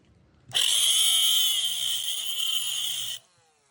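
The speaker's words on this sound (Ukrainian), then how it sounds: "Ще й болгарка зараз здохне." An angle grinder grinding nickel screams at a steady high pitch for about three seconds, loud and close, then cuts off abruptly.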